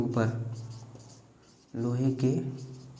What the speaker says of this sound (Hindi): मैं लिख देता हूँ यहाँ पर।